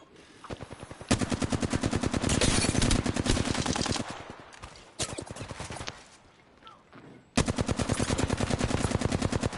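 Rapid automatic gunfire in the video game Apex Legends, long rattling bursts of evenly spaced shots with short pauses between them, loud and close.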